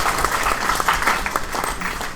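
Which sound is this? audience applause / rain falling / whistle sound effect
audience applause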